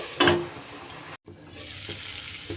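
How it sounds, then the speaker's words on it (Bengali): Spiced yogurt masala cooking covered in a pan on low gas, with a steady broadband sizzle, a louder burst of stirring near the start and a brief gap before the frying continues. "মিনিট 2 জন্য এইভাবে ঢেকে রান্নাটা করে নিলাম"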